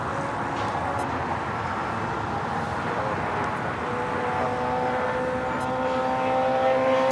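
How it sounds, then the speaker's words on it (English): An Air Tahiti Nui Boeing Dreamliner rolls for takeoff on runway 25 right at LAX, a steady far-off jet roar building slightly toward the end, with no talk. "we got Air Tahiti Nui, the Dreamliner heading to Paris, flight 8, now rolling down at 25 right"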